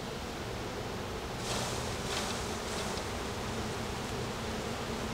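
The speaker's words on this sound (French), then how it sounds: "Je vais quand même lui donner quelques abeilles de plus." Honey bees swarm around an open hive during spring colony splitting, filling the air with a dense, continuous buzz that stays close and even, rising slightly partway through.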